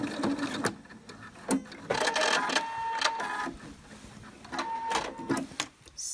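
A sewing machine stitches a nose clip into a fabric face mask, running in short rapid bursts of mechanical clatter that start and stop several times, close up, no talking.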